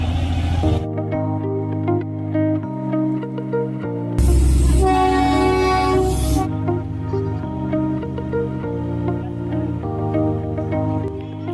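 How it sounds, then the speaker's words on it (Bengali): The Darjeeling toy train running with a steady rumble and sustained horn-like tones, plus a louder hissing burst of steam partway through. "টয় ট্রেন চালু হয়ে গেছে।"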